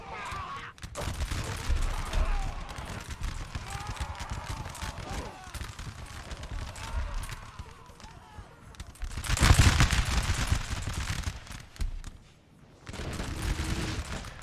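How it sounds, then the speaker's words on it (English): Artillery and musket fire in a Napoleonic Total War 3 battle crackle in rapid volleys under ongoing commentary, with heavier booming bursts swelling midway and again near the end. "The artillery is going overhead now. It's starting to really shoot up the French."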